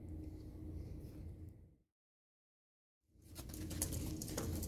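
Pigeons outdoors cooing and flapping amid steady street ambience, cut by a short silent gap before the busy outdoor sound resumes.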